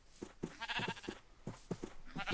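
Several short bleats from sheep in Minecraft, repeated in an uneven rhythm over about two seconds, fairly close and clear with no talking.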